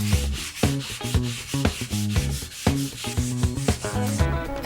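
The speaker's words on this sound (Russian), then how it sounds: "Высохшую загрунтованную поверхность шкурим." Sandpaper rubbed by hand across the dried, primed surface of an old shoe cabinet: rhythmic back-and-forth scraping strokes, close and fairly loud, repeating about twice per second.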